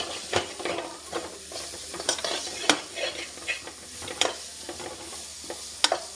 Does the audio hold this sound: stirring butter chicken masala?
yes